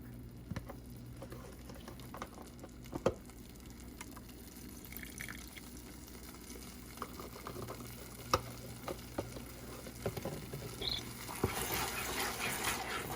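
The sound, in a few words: stirring vegan cheese sauce in a pan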